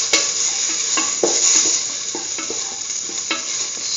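Cumin powder sautéing in a pan for a curried lentil and egg stew, a constant sizzle broken by repeated scraping and clinking strokes of a utensil against the pan, close and without voices.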